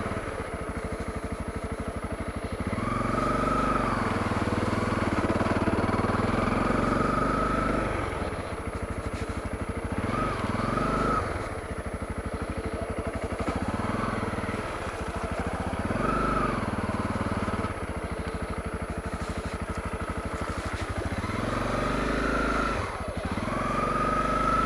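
Honda CRF250L dual-sport motorcycle ridden along a muddy forest trail in Mark Twain National Forest, its engine droning steadily and close with repeated throttle rises and dips, no talking.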